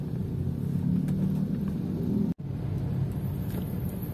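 Inside a 2005 Toyota Innova V petrol on the road, a steady low engine hum and tire rumble fill the cabin at moderate level, briefly cutting out for an instant before resuming unchanged.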